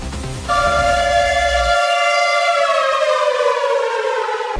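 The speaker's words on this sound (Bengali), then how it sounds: "আকাশ কাঁপিয়ে বেজে উঠবে ওয়ার সাইরেন" A loud air-raid siren wails steadily, its rising then slowly falling tone sustained and piercing after a brief noisy start.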